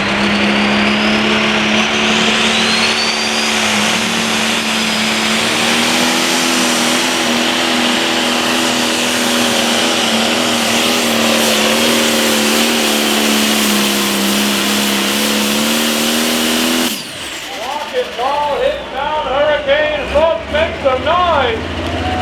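Limited Pro Stock pulling tractor at a tractor pull event, engine roaring loud and sustained at high revs for about seventeen seconds, then cutting off abruptly into quieter revving bursts and crowd noise.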